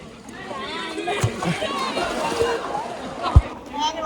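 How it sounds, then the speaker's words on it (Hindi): People wade and splash through water at a waterfall nearby, with a broad wash of moving water, occasional sharper splashes and voices talking underneath. "बिस्मिल्लाह करके भाई पानी के अंदर जा रहे हैं।"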